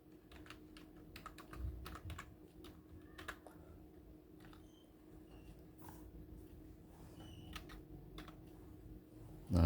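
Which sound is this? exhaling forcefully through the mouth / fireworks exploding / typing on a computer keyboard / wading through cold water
typing on a computer keyboard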